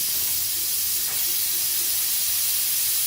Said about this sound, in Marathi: मीडियम फ्लेमवर 4 शिट्या करून घेऊया.